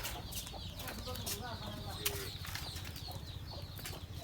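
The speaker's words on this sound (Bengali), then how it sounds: "এই যে দুইটা ময়না পাখি একসাথে" Two common hill mynas call together, a busy run of short whistles, squawks and chattering notes over steady low background noise, with some faint voices mixed in.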